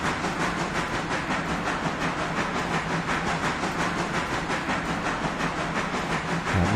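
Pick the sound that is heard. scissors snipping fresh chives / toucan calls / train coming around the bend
train coming around the bend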